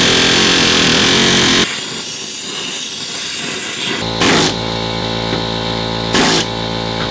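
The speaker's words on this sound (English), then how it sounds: "Now I'm trying to cut the sleeve to make it easier to peel out of there" A power tool cuts through the leaf spring bushing sleeve on a Chevy truck's rear shackle, a loud, continuous, close buzzing whine that dips in tone midway and then surges back with two short, sharper bursts.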